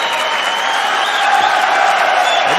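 Crowd at the 2023 Spanish Open table tennis final between Bijsterbosch and Dang roars with loud, sustained cheering and applause that fills the whole moment without a break.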